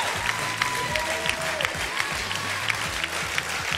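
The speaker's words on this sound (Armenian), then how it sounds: "ծափարեք, գավաշտին շնորհակալություն" Audience at an Armenian awards recap event applauds steadily with dense, continuous clapping throughout, a busy crowd texture with faint voices mixed underneath.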